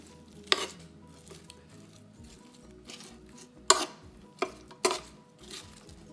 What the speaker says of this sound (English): Trying to get the cabbage coated with that ghee.